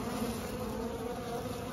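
Honeybees buzz steadily around the exit hole left in a trap-out on an infested structure, a continuous close, dense hum of many insects with no talk over it.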